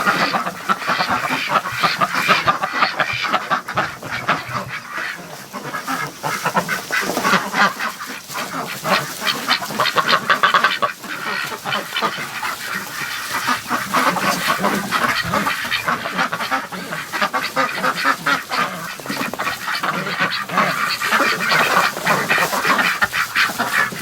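Dense, continuous quacking and honking from a large flock of ducks in a barn, many birds calling at once in a busy, noisy chorus with no talking.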